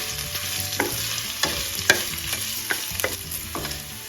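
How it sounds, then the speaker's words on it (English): Ginger sautéing in a pan for homemade peach pickles, a soft continuous sizzle punctuated by a sequence of sharp spatula scrapes and knocks at an uneven rhythm, close and clear with no voices. "Half cup of ginger, saute for 2 minutes."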